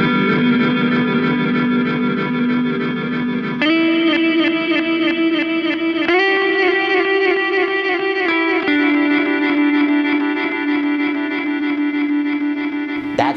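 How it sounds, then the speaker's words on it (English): Sustained electric guitar chords pass through a Horizon Devices Flux Echo pedal with delay and reverb at moderate settings, each chord ringing out and smearing into a wash of repeats and ambient tail, loud and close. "Let's put both the delay and the reverb right at about 3 and see what that sounds like."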